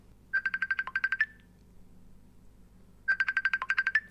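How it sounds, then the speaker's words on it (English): A phone alarm ringtone plays two loud bursts of rapid, bright electronic beeps, separated by about two seconds of quiet background. "If that's your ringtone, that's fucking horrible."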